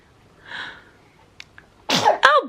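A baby sneezes once, loud and close, in a quiet room, with a fainter breathy sound and small clicks before it.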